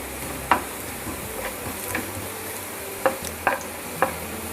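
Onions fry on a low-medium flame in a pan for desi masala pasta, giving a soft, steady sizzle with a handful of scattered spoon clicks and light stirring taps close by.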